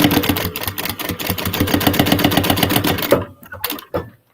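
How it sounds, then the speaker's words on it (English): Sewing machine stitching two short edges of a fabric strap together, right sides facing, for a fold-over clutch bag; a steady rapid mechanical chatter runs for about three seconds, then stops, followed by a few softer clicks and handling noises. "I'm going to sew them together at 1/4 of an inch"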